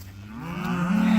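A Red Angus cow in a herd being moved on a Maine farm lets out a single loud, close moo that rises and swells toward the end.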